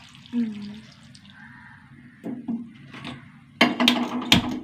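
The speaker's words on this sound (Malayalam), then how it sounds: "വെള്ളം ഒഴിച്ച് കൊടുക്കട്ടെ" Water poured into a cooking pot of drumstick and ash gourd curry seasoned with turmeric and salt, heard as a short, louder splashing gush near the end after quieter kitchen sounds and a few soft knocks.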